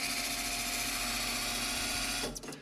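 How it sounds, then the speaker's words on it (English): The input shaft drive of an LT40 sawmill runs while the head goes down, giving a steady, fast mechanical whirring hum with a rhythmic rattle that cuts off near the end. "You'll notice that it runs at a higher RPM going down. That's because gravity is assisting."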